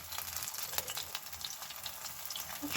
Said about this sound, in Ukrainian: І викладаю ложкою легенько на пательню.